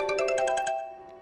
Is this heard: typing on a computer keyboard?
no